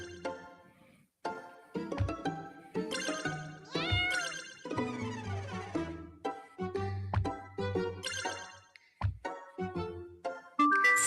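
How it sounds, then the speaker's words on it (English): Repeated cat meows from the BOOP digital board game, a steady run of close, clear game sound effects at varied pitches with no talking. "Meow."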